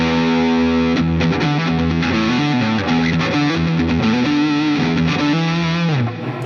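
Harley Benton SC400 electric guitar on the neck pickup with overdrive, playing distorted rhythm chords that ring loud and close for several seconds before cutting off near the end.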